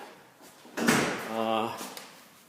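A door in an old building is pushed open with a sudden thump and a creaking, scraping swing that rises and fades over a second, fairly close in a quiet room.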